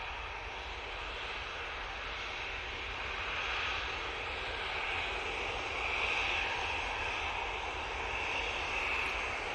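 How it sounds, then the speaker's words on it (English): EasyJet airliner engines at Manchester Airport, a continuous, even jet roar heard at a distance with a broad hiss that swells gently and stays steady throughout. "EasyJet coming on."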